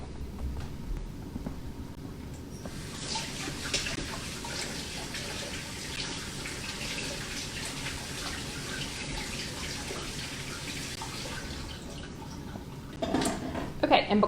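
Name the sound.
water running from tap while rinsing hands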